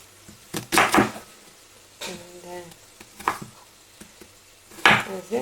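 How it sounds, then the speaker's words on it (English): A knife chops through an onion on a cutting board in a few loud, close strokes, separated by short pauses and quieter handling noise. "I'm gonna cut the onion."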